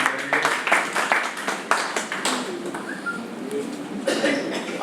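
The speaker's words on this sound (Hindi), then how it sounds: "एक बार सभी लोगों से जोरदार तालियों के साथ उनका अभिनंदन करेंगे" An audience at a BJP foundation day event in Delhi claps in several bursts, moderately loud and uneven, with crowd murmur underneath and a few bird-like calls in the background.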